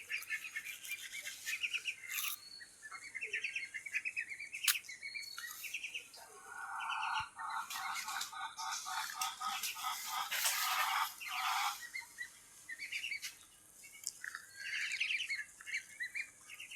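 Pigeons perched above young birds at a backyard chicken-rearing farm give repeated chirps and squawks, fairly close and lively, in clustered bursts throughout with no talking.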